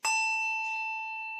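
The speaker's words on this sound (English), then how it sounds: "Ring bell number 3." Handbell number 3 is rung once, a clear bright strike that holds a pure sustained ringing tone and fades slowly, close and alone.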